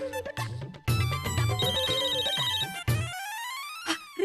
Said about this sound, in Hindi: रिंग जा रही, रिंग जा रही।